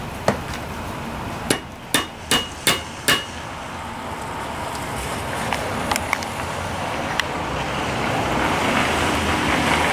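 A hammer drives a tapered pin into a rusted Briggs and Stratton starter motor under restoration: one sharp metallic blow, then a quick run of five more, followed by a few lighter taps over steady background hiss.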